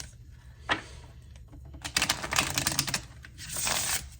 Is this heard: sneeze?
no